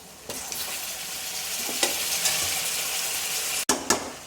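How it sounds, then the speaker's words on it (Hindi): Mutton sizzling in hot masala for nihari, a close, steady frying hiss broken by occasional stirring scrapes of a spoon against the pot. "इस टाइम पे आके हमने इसमें गोश्त ऐड कर देना है।"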